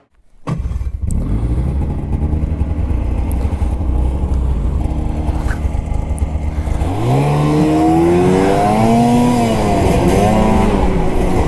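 Snowmobile ridden on a night trail, its engine starting abruptly and then droning loud and close, climbing in pitch as it revs and accelerates in the second half, with no talking.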